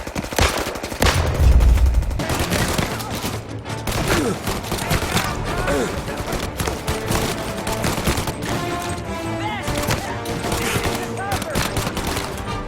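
Automatic gunfire rattles in the video game Mafia Definitive Edition, dense sustained bursts of machine-gun fire close and loud, with shouted voices mixed into the battle.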